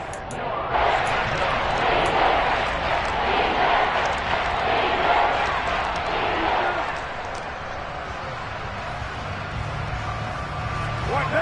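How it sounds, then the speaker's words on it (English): A simulated stadium crowd in a Madden football video game roars loudly ahead of a big third down, holding a dense cheer for several seconds before easing off. "the crowd getting into it as we come up on a big 3rd down"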